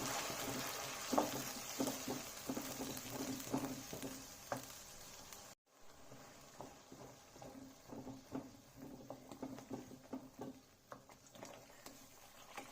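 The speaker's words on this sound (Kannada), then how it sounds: "ಈಗ ರುಬ್ಬಿರೋಂಥ ಮಸಾಲೆನ ಸೇರಿಸ್ತಾ ಇದ್ದೀನಿ" Ground masala sizzling as it is added to fried onions for a Tulu-style sardine (buthai fish) pulimunchi, a soft steady crackle with light stirring taps and a brief cut near the middle.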